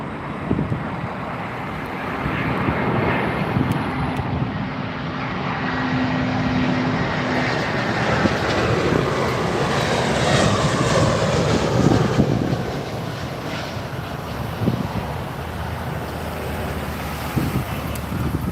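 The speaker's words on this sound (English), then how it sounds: "Right, Finnair A320 is just coming in now." A Finnair Airbus A320 landing on runway 27R at London Heathrow builds to a loud, broad engine roar as it passes close overhead, then fades into a lower rumble.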